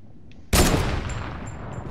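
A single sharp, loud gunshot cracks in Fortnite, followed by a decaying roar of echo and a faint high ring trailing off.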